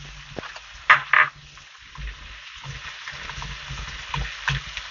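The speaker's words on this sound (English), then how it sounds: "shrimp is cooking. Greens are cooking. Nice little saute." Shrimp and greens sauté in a pan, giving a soft, patchy sizzle with a couple of brief louder crackling bursts and light stirring clatter, close and fairly quiet.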